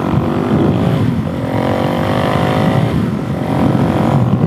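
A Suzuki DR-Z 470 motorcycle pulls hard from a standstill toward 90 mph, its loud engine note climbing through the gears with brief dips at each shift, close and steady, no voices.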